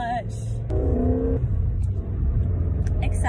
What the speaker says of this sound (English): His car's so loud.